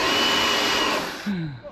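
A pressure washer cleaning park home decking runs as a loud, steady broadband hiss and roar close by, then cuts away near the end to a brief tonal swoop.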